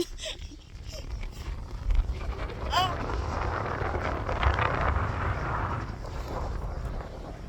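Strong wind buffets the microphone on a high viewpoint, a continuous rumbling roar with gusty swells. A brief voice and a short whoop rise above the blustering noise partway through.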